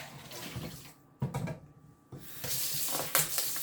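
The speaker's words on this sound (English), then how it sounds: "I'm gonna go ahead and wash our beef" Tap water running over beef pieces being washed in a sink: a close, hissing rush that stops briefly in the middle, then resumes with splashes and a steady flow.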